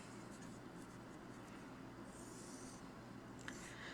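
Pencil or pen scratching faintly across paper in short strokes, quiet over a steady background hiss.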